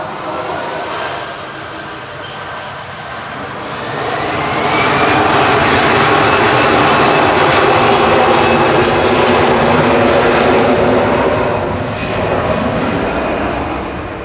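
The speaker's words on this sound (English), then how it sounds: "EasyJet 2229 to Prague going next. She's a TX A320 Classic." An easyJet Airbus A320 jet airliner departs Manchester Airport, its engine roar swelling steadily from a distant whine to a loud, sustained broadband rumble before easing slightly near the end.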